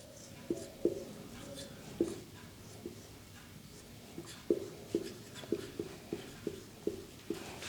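Chalk or marker writing on a classroom board, a series of short sharp taps and scratches that arrive in irregular clusters, fairly close, with quiet room tone between strokes.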